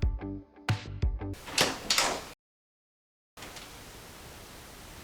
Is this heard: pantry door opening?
yes